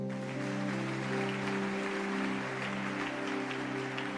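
A church congregation claps and cheers to acclaim Jesus, sustained applause with a sung or shouted chorus of voices and a steady organ-like tone beneath, filling the room evenly throughout.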